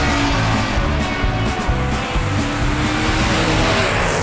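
Cartoon race cars roar through a tense race, with a dense, continuous engine drone and rhythmic pulsing revs, loud and close with no pauses.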